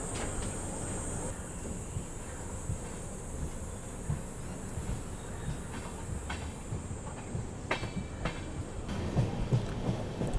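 A passenger train rolls along after leaving Raiwala railway station near Rishikesh on the Prayagraj Sangam Express, a steady loud rumble with rail clatter and a high hiss throughout, a few sharper clicks near the end.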